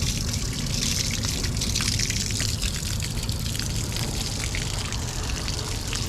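Steady running water trickles and splashes continuously near an underwater car close to the Statue of Liberty, a dense wash of liquid noise with no talk over it.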